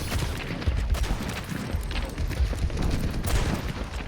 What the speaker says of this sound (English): Blue's hitting some absolutely crazy shots here on Ashe.